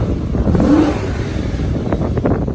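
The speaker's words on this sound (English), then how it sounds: "You also get a nice bit of induction noise." Audi RS5 4.2 FSI V8 quattro revving close by, steady loud engine roar with intake induction noise, then a few short sharp throttle blips near the end.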